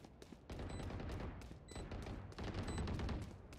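Bullets whizzing past in Valorant, a fast run of cracking shots and passing snaps from nearby gunfire, fairly faint overall.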